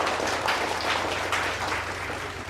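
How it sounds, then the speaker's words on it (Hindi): Crowd applause at an open mic show as a performer is called up, a loud, dense burst of clapping with a low hum underneath that eases slightly toward the end. "के लिए जोरदार ताली हो जाए"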